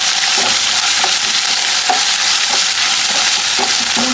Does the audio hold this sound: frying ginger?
yes